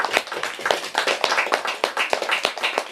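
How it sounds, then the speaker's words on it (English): An audience at a book event applauds, a dense run of close, crisp handclaps going on steadily for the whole three seconds. "Alison Owings, round of applause."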